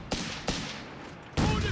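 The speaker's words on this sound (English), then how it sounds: "There goes Stummel already, engaging the section there with a 75mm cannon." A German Stummel half-track's 75mm cannon fires in Company of Heroes 3, with sharp heavy blasts from the game's battle and a loud report at the end.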